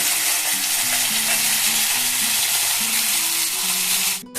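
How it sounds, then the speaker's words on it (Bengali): Spice paste with ground cumin and turmeric frying hard in a pan for a Bengali banana-stem curry, a loud continuous sizzle with occasional stirring scrapes, ending in a short pause. "এবার আমি মশলাটাকে কষিয়ে নেব"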